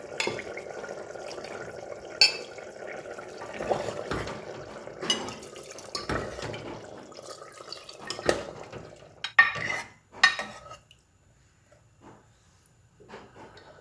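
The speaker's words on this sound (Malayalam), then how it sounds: "ഇതിലേക്ക് ഇനിയും തേങ്ങാപ്പാൽ ഒഴിച്ച് കൊടുക്കാം" Coconut milk goes into a pan of simmering Kerala-style chicken kurma, giving soft pouring and liquid sounds along with scattered clinks and taps of a utensil against the pot, close by and fairly quiet.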